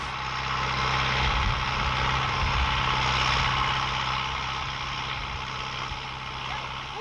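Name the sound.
tractor engine working the mechanized field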